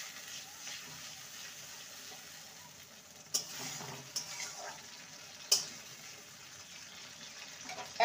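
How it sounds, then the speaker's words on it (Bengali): Spice paste with ginger paste and a splash of water frying and being stirred in a pan for a parwal and moong dal dish, a steady close sizzle broken by a few sharp spatula scrapes. "এবার মশলাটাকে ভালো মতন কষিয়ে নেব।"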